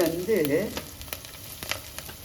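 Food sizzles in hot oil as Jalebi fish kulambu is cooked, a steady crackling fry with faint scattered pops and stirring clicks, close by with no talking.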